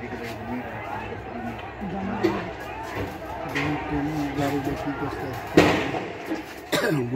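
Two sharp gunshot-like bangs burst out over a restless, chattering crowd during a street clash with garment workers in Ashulia, Bangladesh. The second bang comes about a second after the first, and people keep talking and shouting throughout.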